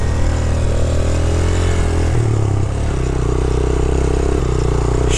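Yamaha YBR motorcycle engine labouring up a steep off-road trail, a loud, close, steady mid-pitched drone with a shift in tone partway through and no talk over it.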